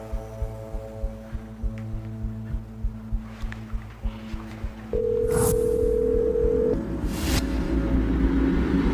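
During a phone call, a single steady electronic tone holds for about two seconds, preceded by faint rhythmic low thumps and followed by a louder burst of noise.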